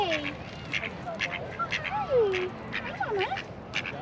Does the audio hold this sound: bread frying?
no